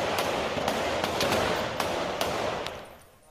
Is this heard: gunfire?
yes